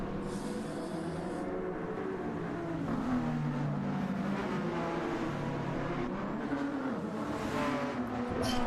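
Race cars, one of them a Porsche, circulate in a three-lap race on the Nürburgring Nordschleife, their engines droning and whining continuously at a fairly low, even level with no voices.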